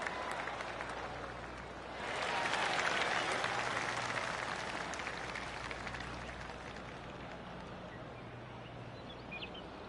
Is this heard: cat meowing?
no